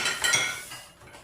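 Dishes and cutlery being washed at a kitchen sink, a short burst of bright metallic clinks and rattles that fade toward the end, close and fairly loud, with no talking.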